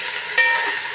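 Small homegrown okra fries in hot ghee, a close, steady sizzle with a brief stirring scrape partway through.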